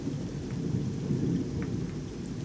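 Steady rainfall in a film scene with a low rolling rumble of thunder swelling and fading beneath it, moderately loud and continuous, no voices.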